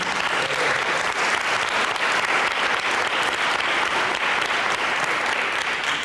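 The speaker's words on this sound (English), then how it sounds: "So if we could give them a round of applause." A large audience at a human rights awards evening applauds steadily and loudly, a dense unbroken wash of clapping lasting throughout.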